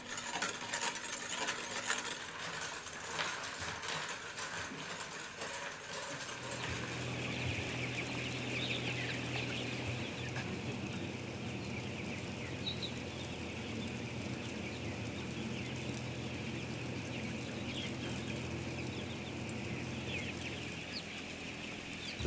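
Chickens being vaccinated cluck and murmur steadily in a busy poultry house, with a constant mechanical hum underneath and no talking.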